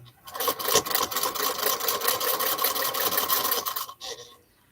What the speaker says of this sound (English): I'm top stitching the gap where I flipped it.